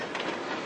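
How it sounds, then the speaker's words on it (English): A cargo train grinds along rails through southern Mexico, a brief, dense rumbling rattle with a metallic edge, heard close and steady for under a second. "They'll spend days clinging to cargo trains as they grind through southern Mexico up toward the US border."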